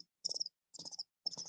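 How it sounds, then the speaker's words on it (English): Three short, bright cricket chirps, each a quick trill of pulses, repeat at an even pace against silence, close and moderately quiet. "Crickets is the answer."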